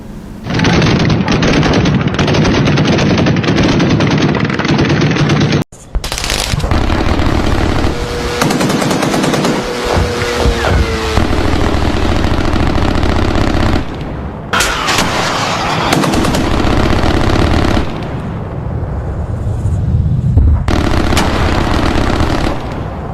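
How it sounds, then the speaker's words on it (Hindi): Loud, continuous machine gun fire from the Indian Army, sustained rattling bursts with heavy booming reports, broken only by a few brief pauses. "देखिए किस तरह से भारत की ओर से लगातार फायरिंग की जा रही है।"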